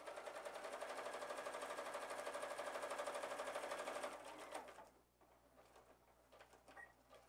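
A sewing machine quilts a big X across a fabric rectangle for a fabric catch-all basket, humming in a steady, close, rapid stitching run for about four seconds before stopping and leaving faint room noise.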